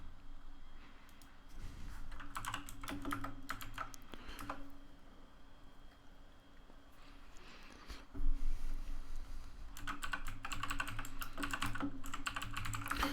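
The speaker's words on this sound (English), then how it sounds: "I apologize for the sound of my keyboard" Clattering keystrokes on a computer keyboard come in bursts of rapid typing with brief pauses between them, close to the microphone and moderately loud over a quiet room hum.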